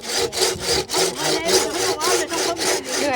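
A hand saw cuts through wood in steady back-and-forth strokes, about eight rasping pulls in quick rhythm, loud and close on a house-building site.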